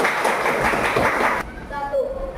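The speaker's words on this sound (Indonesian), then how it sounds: "Tepuk tangan dulu buat kelompok 3" A sixth-grade class claps for group 3 in an elementary school classroom, a dense burst of applause lasting about a second and a half before cutting off abruptly, with quieter voices and room sounds afterward.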